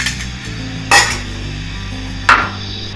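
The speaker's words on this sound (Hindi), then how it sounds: "अब हमने मुसलसल चम्मच हिलाना है इसको, बिल्कुल खीर को छोड़ के नहीं जाना" A spoon stirs kheer in a cooking pot, giving two sharp metallic scrapes and clinks about a second apart over a low steady stove hum.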